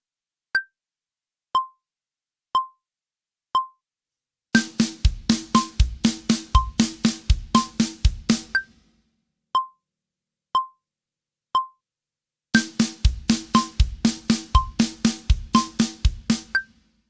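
A drum kit plays a linear fill in groups of three (right hand, left hand, bass drum) around the snare. Two bars of fast, even hits follow sparse metronome clicks counting in each time.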